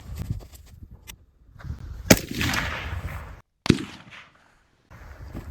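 A suppressed AR-15 rifle fires outdoors, a sharp, loud crack that stands out against quiet surroundings, with a second short impulse a moment later.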